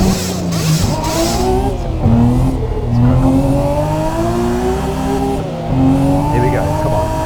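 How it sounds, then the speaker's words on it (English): Formula 1 car engine in the Assetto Corsa racing game, a loud continuous rev with pitch climbing in repeated surges and brief dips between, sustained throughout, with speech-like activity mixed in. "Come on, rev up the Formula 1 car."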